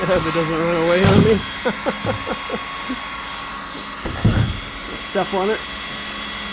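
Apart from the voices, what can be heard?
heat gun heating plastic plow marker wand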